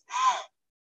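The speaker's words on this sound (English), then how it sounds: "If I start doing a gasping breath that's really noisy like this" A singing teacher demonstrates a noisy, gasping intake of breath: one short, harsh, airy inhalation, close and clear, followed by silence.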